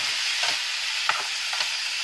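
Sliced zucchini fries in a pan with a steady bright sizzle and a few louder pops, close by, with no talking.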